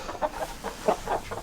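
Backyard homestead chickens in Minnesota snow give a run of soft clucks, about six short calls spaced through a second and a half, close by and moderately loud over faint background hiss.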